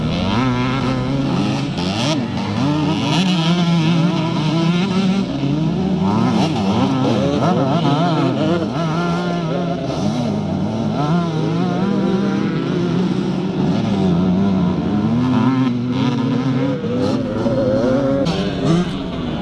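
Vintage scramble motorcycles, among them a Kawasaki KX 250, race at a classic revival meeting, with loud overlapping engines revving and droning continuously throughout, while a commentator's voice is faintly mixed in.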